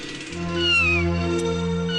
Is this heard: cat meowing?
yes